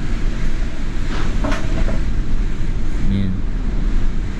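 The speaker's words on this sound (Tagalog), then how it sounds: "Malakas pa rin yung hangin yan." Strong typhoon wind roars steadily and broadband throughout, buffeting the microphone, with a brief spoken word partway through.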